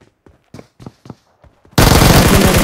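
Automatic gunfire in BGMI erupts as a sudden, loud, continuous burst, close, after a few quiet ticks and taps.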